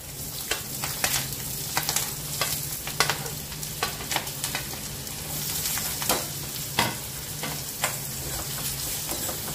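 Radish pickle pieces with turmeric being stirred in a pan, a steady low sizzle broken by repeated scraping clicks of the spoon throughout, near and alone with no voices.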